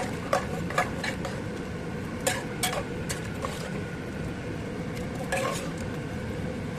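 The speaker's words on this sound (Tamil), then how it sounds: "நம்ம ரைஸ் எடுத்து போட்டுக்கலாம் நல்லா கலக்கி விட்டுக்கோங்க" Rice and potato pulao being stirred in a pot, with a steady low scraping bed punctuated by several sharp utensil clinks against the metal, close and moderately loud, no voices.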